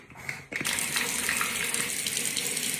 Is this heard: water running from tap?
yes